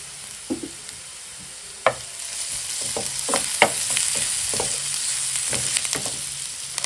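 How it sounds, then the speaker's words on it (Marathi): Vegetables sizzling steadily in a pan as turmeric goes in, with scattered scraping clicks of a spoon stirring at an uneven pace, close and fairly loud, no talking. "थोडीशी हळद टाकूया."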